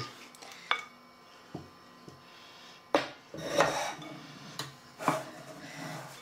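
Ice cream custard is stirred in a saucepan with a wooden spoon, producing sparse, fairly quiet scrapes and knocks against the pan at irregular intervals, with no talking.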